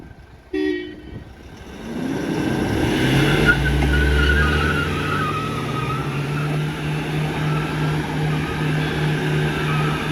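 Two cars locked in a tug of war, engines roaring under strain with a sustained low drone that rises after a brief start, tire squeal and scraping layered over it, loud and close throughout with no talk.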